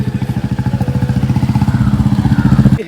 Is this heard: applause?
no